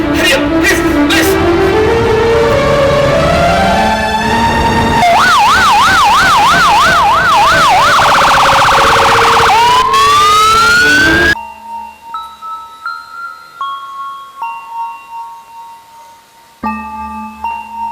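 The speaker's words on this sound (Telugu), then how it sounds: "రాజేష్, అర్జెంట్గా మా ఇంటికి అంబులెన్స్ పంపించు ప్లీజ్." An ambulance siren sounds during a stage play. Loud, rising and falling electronic wails swell up over a dense musical backdrop, then cut off abruptly into quieter music.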